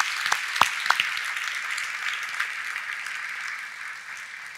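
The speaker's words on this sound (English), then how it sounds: "Let's have a round of applause for all of the city directors who led this incredible effort in 2021." A civic audience at a city's annual address applauds its city directors, with steady, fairly distant clapping from a large crowd and a few sharper nearby claps near the start.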